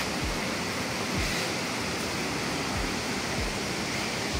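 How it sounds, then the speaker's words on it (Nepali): Waterfall on a hiking trail from Kathmandu to Chisapani in Sindhupalchowk, a steady broadband roar of falling water, close and constant, with occasional low thuds underneath. "अहिले यस्तो झरना छ यहाँ"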